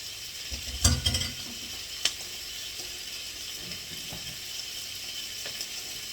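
Shrimp fry in a pan with beans and kale, a steady sizzling hiss broken by a few scraping stirs near the start and one sharp knock partway through.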